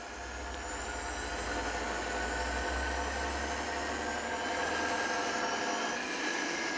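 A plane's jet turbines in Gangstar Vegas roar steadily and loudly as a continuous whine and deep rumble, with no breaks and no talking.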